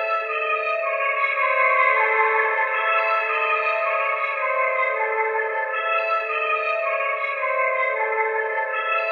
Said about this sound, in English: This reverb really adds life.